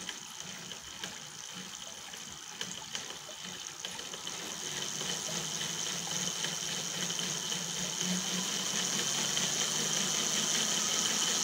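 An electric bicycle motor driven by a converted alternator whirs and speeds up, its steady hum growing louder and fuller as it accelerates, with no one speaking.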